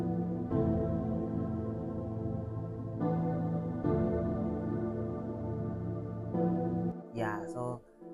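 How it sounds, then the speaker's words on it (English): Soft sustained piano chords change every few seconds over a low, steady bed of sound, ending with a short electronic flourish. "I add this quiet piano"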